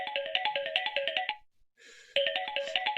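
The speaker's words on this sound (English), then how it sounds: "Answer your damn phone." A phone ringtone plays a quick, bright electronic melody in loud, even pulses, stops briefly, then starts again, with no voices.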